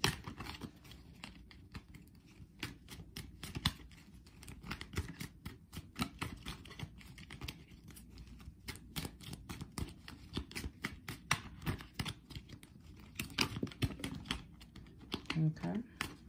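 Tarot cards being shuffled and drawn, a long run of quick crisp riffles and slaps in irregular bursts, close and soft, while a voice talks over parts of it.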